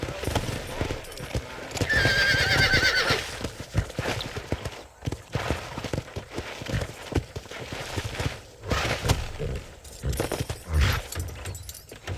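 Horse hooves clip-clop steadily in Red Dead Redemption, mixed with a horse's whinny and jangling tack, running under a loud game soundscape for the whole stretch.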